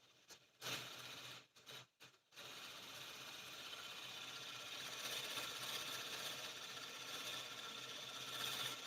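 A pulse motor spins up, its speed climbing slowly past roughly 930 to 950 RPM. A few sharp clicks at the start give way to a steady, close, ratcheting mechanical whir that grows slightly louder.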